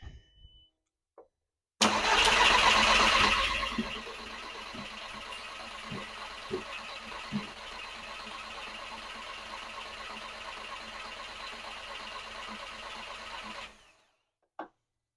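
A manual-swapped Mk4 car engine cranks and catches with a loud roar, settles into a steady idle for about ten seconds, then shuts off, heard alone at close range.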